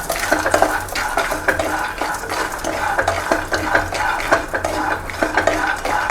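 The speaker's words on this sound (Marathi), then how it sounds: "हे एकदम बारीक गॅसवर भाजून घ्यायचं." Coconut, sesame and flaxseed dry-roasting in a pan over a very low flame, stirred continuously with a utensil that scrapes and clinks against the pan in an uneven rhythm, close and loud, with no voices.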